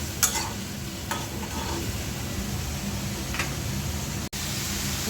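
Masala for egg bhuna is stirred and fried in a pan, giving a steady sizzle with a few sharp scrapes of the spoon against the pan, close and without talking.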